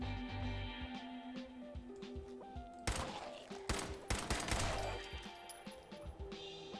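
Bursts of rapid gunfire in Fallout 4, with a dense volley in the middle and scattered shots before and after, loud and close.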